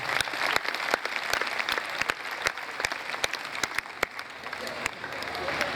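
A church congregation claps continuously and loudly at St Francis Xavier Catholic Church in Sargodha, dense applause with sharp individual claps standing out throughout.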